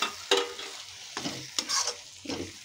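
Masala for Gujarati-style baingan bharta being stirred in a pan, several distinct scraping strokes of a spoon against the metal over a soft sizzle, close and clear with no talking.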